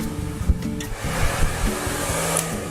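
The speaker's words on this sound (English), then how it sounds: "just push all the hair forward with the blow dryer" A blow dryer runs continuously and loudly while pushing short hair forward, a steady close whooshing roar with slight shifts as it moves, and no talking.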